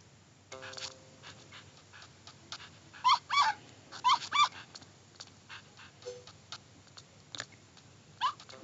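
A Chihuahua in the Nintendogs video game whimpering and panting, with short high whines in clustered bursts between soft breathy pants and small sniffs, close and clear with no talk.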